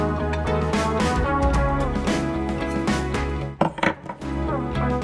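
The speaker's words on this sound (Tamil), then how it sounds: "இப்போ இதை வந்து நல்லா வறுத்துக்க போறோம்." Whole green gram dry-roasting in a pan, the small grains rattling and clinking against the metal in a steady busy patter, with a brief scraping disturbance near the end.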